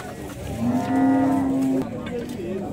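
Cattle at a livestock fair in Dois Riachos, Alagoas, where cows, bulls and calves are mixed together; one long, loud, close moo rises and holds for about a second amid a busy background murmur.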